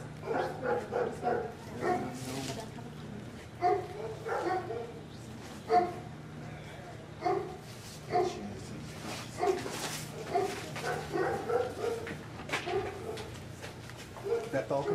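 Dog barking in short yapping bursts around a house, mixed in with people talking throughout.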